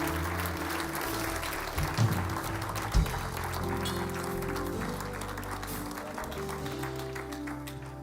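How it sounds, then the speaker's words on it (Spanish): A church congregation claps in loud, steady applause for several seconds. A few sharper knocks and bumps stand out above the continuous clapping. "Denle un fuerte aplauso."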